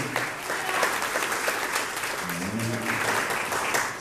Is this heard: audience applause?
yes